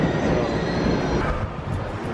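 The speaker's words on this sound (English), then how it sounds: "there's our Subway." A Boston subway train rolls past outdoors near the Charles River with a loud wash of rail noise and squealing wheels, the roar easing slightly toward the end.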